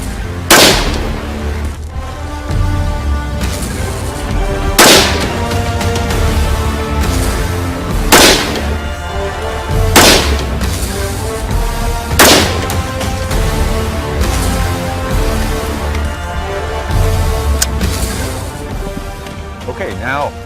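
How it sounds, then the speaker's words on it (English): A rifle fired without a suppressor lets off a series of loud, sharp cracks, spaced a couple of seconds or more apart, each with a short echoing decay over a faint steady background. "So let's go ahead and fire the weapon unsuppressed."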